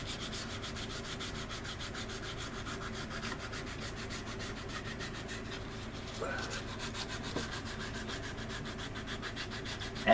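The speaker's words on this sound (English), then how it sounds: "filling in them seams like that when you're using a sanding board" A sanding board rubs along the seams of a resin model kit in steady, quiet back-and-forth strokes, soft and close, with a small tap near the end.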